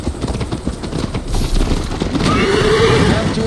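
Horse mounted in Assassin's Creed Valhalla, with clip-clopping hooves and a clear whinny rising near the end, loud and close, over ambient battle noise.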